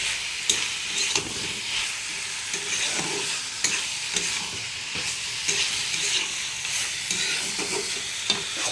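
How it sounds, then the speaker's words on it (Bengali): Chicken frying and being stirred in a pan, a steady hiss of sizzling oil with regular scraping and clacking from a utensil, close and unbroken, with no talk. "চিকেনটা দিয়ে ভালো করে এবার কষে নেব"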